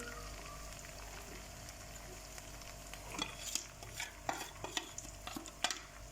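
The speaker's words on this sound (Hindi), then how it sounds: "और अब हम मसाले को अच्छी तरह से भून लेंगे।" Onions, tomato paste and dry spices fry and are stirred in a pan, giving a continuous soft sizzle with scraping stir strokes that grow more frequent and distinct toward the end.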